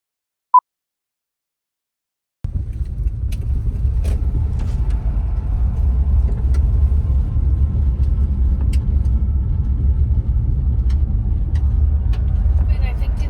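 A car turns into a driveway beside a house with pickup trucks parked nearby, heard from inside as a steady, loud low rumble of engine and road noise after a brief silence.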